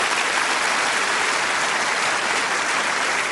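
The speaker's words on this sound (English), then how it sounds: "Give them a nice round of applause." Studio audience applause on the Bullseye game show, dense continuous clapping that stays loud and even throughout, with no talk over it.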